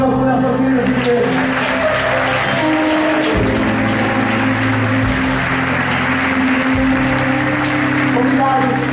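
Applause from a church congregation fills the space continuously, loud and close throughout, with a steady sustained organ or keyboard chord underneath.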